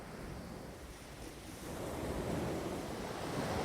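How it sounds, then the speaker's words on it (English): Small waves wash steadily over a pebble shoreline at the seaside, a soft continuous hiss and rush that swells slightly louder midway, close by and with no voices. "What about the sound of little waves on the shoreline?"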